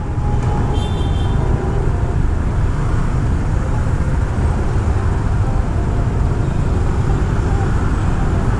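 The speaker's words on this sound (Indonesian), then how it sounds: "ini lumayan macet ya teman-teman ya" Traffic jam on Berawa beach road in Canggu, Bali, midday: a dense, continuous rumble of idling and creeping cars, motorbikes and trucks, loud and close throughout, with no pauses.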